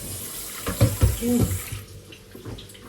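Tap water runs into a cooking pot in a home kitchen, a short gushing stream with splashy bursts that fades to a quieter trickle, with faint background murmur.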